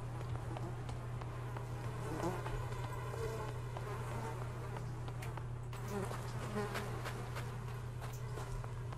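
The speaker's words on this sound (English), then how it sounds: "I'm sick of hearing buzzing." A continuous insect drone of flies hovers close by in the video game Project Zomboid, steady and unbroken over a low background hum, with occasional faint ticks.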